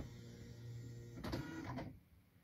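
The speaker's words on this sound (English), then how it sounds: "I then go on to turn on the printer." A Panasonic KX-P2023 dot matrix printer powers on with a steady low hum, then a short burst of mechanical clatter and whirring as the print head initializes, fading back to quiet near the end.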